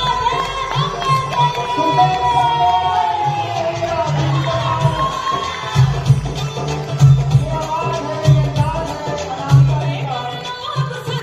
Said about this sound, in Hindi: थोड़ा शोर तो मचा दो देवरिया। कम ऑन, एक बार जोरदार तालियां आप सभी की